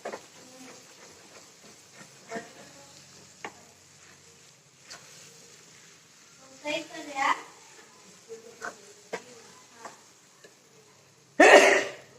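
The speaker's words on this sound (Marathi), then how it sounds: "मला खूप शिंका येतात" A single loud, sharp sneeze bursts out at the very end, after quiet speech and small kitchen sounds.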